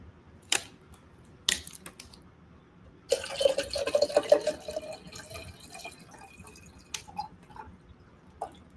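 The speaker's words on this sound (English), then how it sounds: "going to refill my water here" Water poured from a tap into a drinking glass, a short burst of running, filling liquid in a quiet room, with scattered clicks and small knocks before and after.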